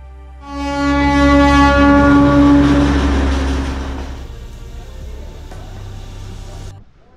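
A Darjeeling train sounds a long, loud horn blast over a deep rumbling engine, then the horn cuts off and the train keeps grinding and rattling along.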